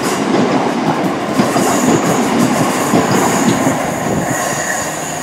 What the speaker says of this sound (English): So we have now just left Manchester Piccadilly on this God tier train, the class 323.